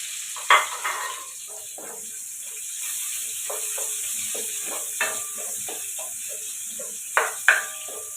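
Onions added to a hot pan for pork rib humba, a Filipino braised dish, sizzling softly under occasional stirring and clinks of a utensil against the pan, close by.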